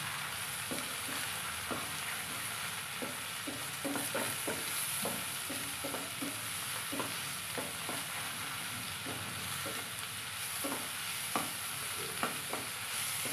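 Leftover rice fries in a pan with two eggs cooking at the side, producing a continuous soft sizzle broken by regular scraping stirs.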